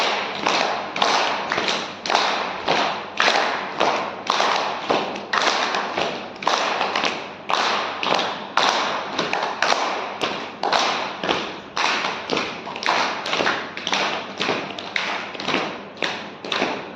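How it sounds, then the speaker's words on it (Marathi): Rhythmic hand clapping during a yoga class exercise, dozens of sharp claps in a steady quick beat, loud and close, continuing without pause and no talking. "ढोलक टाळी किंवा हात ढोलक टाळी"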